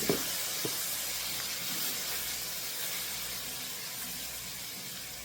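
Maggi seasoning sautéing in a pot over a low flame for Jamaican curry goat, a steady soft hiss and sizzle holding evenly throughout with no talking.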